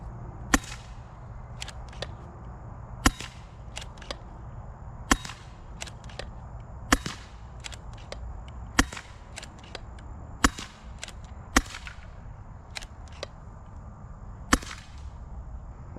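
A Pinty Striker PCP air rifle fires during a penetration test, a series of about a dozen sharp, snappy cracks at irregular intervals over steady outdoor background noise, with no talking.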